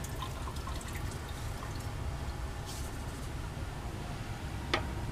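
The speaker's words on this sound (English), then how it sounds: "I'm just going to put some water in there to make a nice ice bath." Water running into a bath of ice for a cooling setup in a chemistry lab, a steady soft splashing and trickling with a few sharper drips, moderately quiet and close, with no talk.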